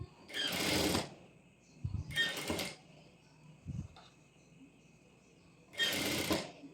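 A sewing machine top stitches a lining at a half inch seam in three short whirring bursts, each about a second long, separated by quiet pauses with faint handling clicks, close and moderately soft.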